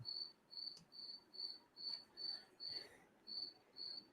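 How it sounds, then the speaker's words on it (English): Crickets chirp indoors near a drill press in a workshop, with a faint, close, high-pitched trill repeating in an even rhythm of short pulses about twice a second, with no talk. "The crickets found their way into the Starship Destiny."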